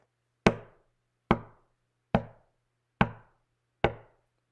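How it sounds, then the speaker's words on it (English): Five sharp knocks on a door, evenly spaced and close, each striking alone with a quick decay in an otherwise quiet room. "He heard five knocks."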